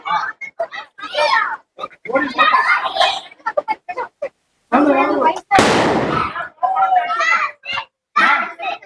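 A Sivakasi Diwali firecracker bursts once midway in a single loud broadband crack with a short noisy tail, surrounded by excited children's voices and chatter before and after.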